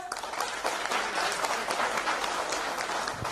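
An audience at an oil company review summit claps loudly and steadily together, a dense unbroken wash of applause filling the whole stretch.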